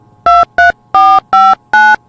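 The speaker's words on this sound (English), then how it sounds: "Come on, Chance. Pick up the phone" A telephone number being dialed for an audio drama scene, five loud, clean touch-tone beeps in an uneven rhythm with short gaps between them and nothing else around.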